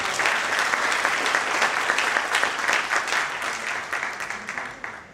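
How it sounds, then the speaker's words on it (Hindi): Audience at a book launch and poetry gathering bursts into steady, loud applause that holds for several seconds and slowly eases off. "जोरदार तालियां मासी के लिए"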